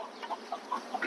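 Native chickens on a small farm clucking, with several short, quiet clucks and calls scattered over about a second against a faint background.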